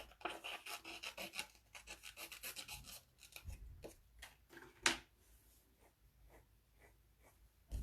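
Scissors snipping through scrapbook paper, a quick run of close, crisp cuts and rustles, slowing into scattered single snips with pauses, no speech.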